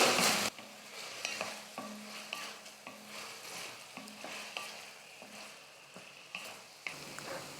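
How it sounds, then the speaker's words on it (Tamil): Prawns frying in oil with masala, giving a steady sizzle broken by repeated scraping and stirring strokes, fairly close and with no talking. "எண்ணெயிலே இந்த மசாலோடு சேர்த்து நல்லா இறாலாக குக் பண்ணும்போது நல்லா சூப்பராக குக் ஆகிட்டு வந்துடும்"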